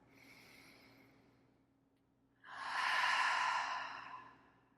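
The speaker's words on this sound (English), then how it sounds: "take a breath." Deep breathing during a standing yoga session, heard as a soft breath followed by a longer, louder airy exhale, close to the mic with no talking.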